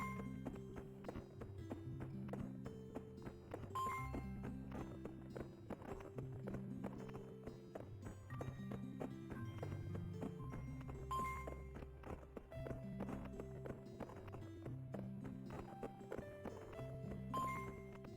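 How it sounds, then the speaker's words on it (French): A horse walks in a horse-riding video game, its steady clip-clop hoofbeats repeating in an even rhythm under game background music. "Fais marcher ton cheval."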